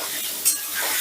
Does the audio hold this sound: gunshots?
no